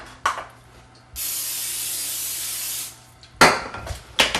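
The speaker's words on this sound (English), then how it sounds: "We're going to spray a jelly roll pan." A steady hiss of cooking spray lasts about two seconds against a jelly roll pan, framed by clattering handling sounds before and after.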